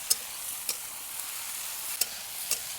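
Onion, tomato and chillies sautéing in a pan, giving a faint, soft sizzle with a few sharp spatula taps against the pan spaced through it, quiet and close, with no voices.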